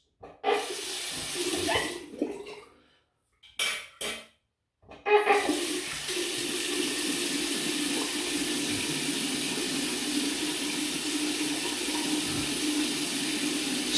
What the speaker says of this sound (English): Right, quick rinse.